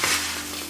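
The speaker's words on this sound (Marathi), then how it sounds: "हे छान मिक्स करून घेऊया." Crisp makyacha (corn) chivda with sugar is stirred in a pan, a brief dry rustling crunch of flakes scraping against the metal.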